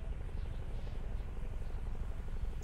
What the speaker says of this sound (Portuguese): Aqui tem helicóptero, caralho.